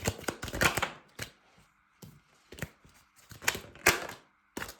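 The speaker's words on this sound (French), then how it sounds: "claquage de cartes" Oracle cards from a large revelations oracle deck being snapped and riffled, with sharp slaps and brisk shuffling bursts in irregular clusters, close and fairly loud, and no talking.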